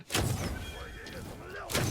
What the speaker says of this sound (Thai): ตรงนู้นมีระเบิด สักบึ้มแล้วกัน